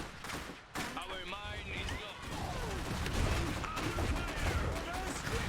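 Infantry squad gunfire in the strategy game Iron Harvest, a steady clatter of scattered shots and bursts under ongoing battle noise, with someone talking over it.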